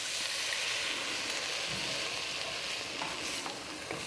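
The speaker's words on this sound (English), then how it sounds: "after we stir all of those around" Spices are stirred in a hot pan for veggie chili, giving a steady, loud sizzling hiss that runs unbroken throughout, with faint scraping underneath.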